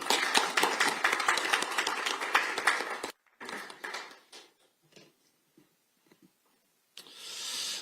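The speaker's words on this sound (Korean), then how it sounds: "큰 박수 부탁드립니다." An audience at a Korean political debate forum applauds loudly for about three seconds, then the clapping cuts off, leaving scattered clicks, shuffling and faint noises before a soft rise of background sound.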